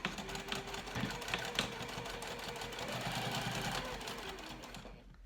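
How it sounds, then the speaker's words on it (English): A sewing machine stitches down a crossbody bag in one steady, fast mechanical run, close and moderately quiet, before stopping at the end. "I am going to just stitch down, starting on the right side, stitch down."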